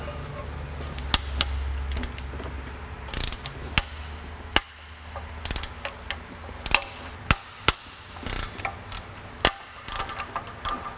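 A ratchet turns bolts on the exhaust header of an Acura Integra, irregular bursts of clicking and metallic knocks close by, with brief pauses between strokes.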